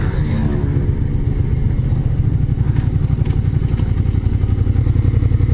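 A motorcycle engine rumbles steadily and loudly nearby, its low throbbing growl holding close throughout with a brief revving rise near the start.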